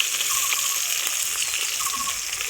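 Rohu fish pieces fry in hot oil in a small pan, giving a steady, close crackling sizzle throughout with faint pops, alone and without talk.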